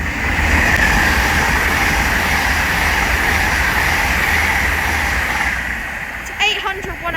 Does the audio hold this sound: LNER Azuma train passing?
yes